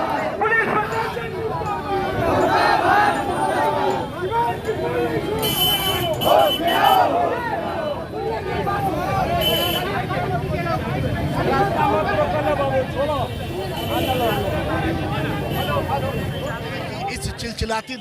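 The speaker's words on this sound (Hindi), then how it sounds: "इस चिलचिलाती धूप में बहुत सारी महिलाएं इंसाफ के लिए सड़क पे उतरी हैं।" Dense crowd of women protesting on a street in Siwan under harsh sun, a continuous babble of many voices and chatter filling the scene, loud and steady throughout.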